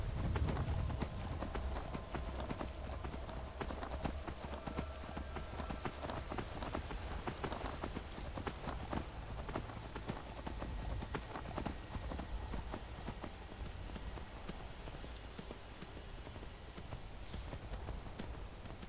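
Hooves of a galloping horse in the video game Skyrim pound in a fast, steady clip-clop rhythm close by, continuous and fairly quiet, with a faint bit of other game sound under it.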